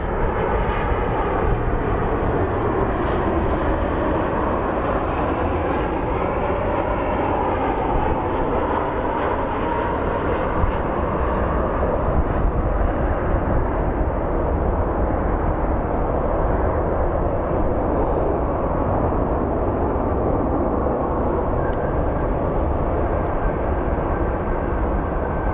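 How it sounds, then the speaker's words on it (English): A Boeing 737 airliner on approach into Phoenix Sky Harbor airport, its engines roaring steadily and loudly for the whole stretch, close by and alone with no talk over it. "737 coming in from Puerto Vallarta"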